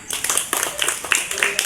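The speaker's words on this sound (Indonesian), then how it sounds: "Silakan tepuk tangan." A class of students claps during a lesson on athletics and the long jump, with scattered uneven hand claps from several people, fairly close, rising and falling in bursts over a noisy room.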